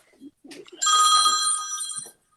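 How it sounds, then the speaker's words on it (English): A telephone rings once in a single sustained electronic trill, fairly loud and close, with faint voice sounds just before it. "my phone was ringing"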